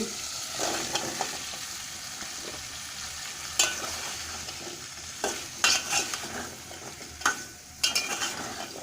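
Pumpkin pieces are tipped into frying shrimp masala and stirred, a soft sizzle with several sharp scrapes and clatters of the spoon in the pan, close and without speech.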